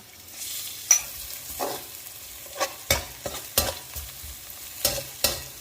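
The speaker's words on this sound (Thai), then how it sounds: "น้ำมันร้อนแล้วก็ตามด้วยตัวนี้ค่ะ กระเทียมนะคะ" Garlic dropped into hot oil in a wok, frying with repeated scraping stir strokes and a steady sizzle, several sharp clatters spaced across the stretch, close and fairly loud with no talking.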